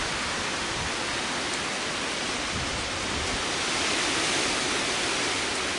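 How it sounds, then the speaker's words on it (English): Heavy rain pours down during a night storm with high winds, a dense, even, hissing roar that stays constant and loud throughout, with no voices. "it's raining like a bugger. It's raining hard."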